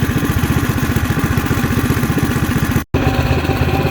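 A Wildcat 223 engine idles after a valve adjustment, a steady close chugging putter with even rapid pulses, briefly cutting out for an instant near the end.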